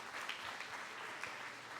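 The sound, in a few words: audience applauding in church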